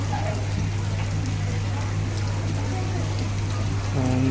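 Heavy rain falling and pouring steadily outdoors, a dense continuous hiss with a low steady hum underneath, loud and close throughout.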